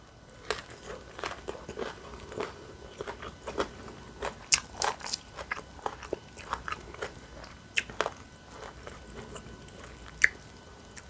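Close, intimate eating of homestyle som tam papaya salad with sticky rice: irregular crisp crunches and wet chewing bites, some louder snaps, with no talking.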